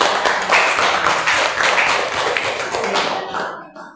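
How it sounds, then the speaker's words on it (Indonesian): Students in a classroom clap for a student group, giving a close, brisk round of overlapping hand claps that fades out near the end. "Tepuk tangan untuk kelompok."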